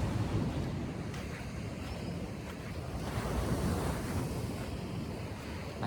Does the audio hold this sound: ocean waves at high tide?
yes